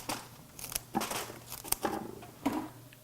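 Flower stems being cut with shears for a vase arrangement, several crisp snipping and crinkling sounds at irregular intervals against a low steady hum, close and moderately loud.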